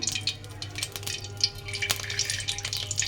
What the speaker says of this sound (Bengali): এখানে আমি রিফাইন অয়েল দিয়ে দিলাম